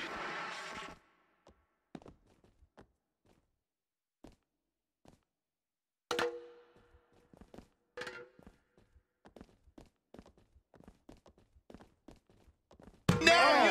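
Fire extinguisher striking a wrestler in the WWE 2K20 video game: a series of scattered dull thuds and knocks, some sharper and louder, with near-silent gaps between them, bracketed by short bursts of noise at the start and end.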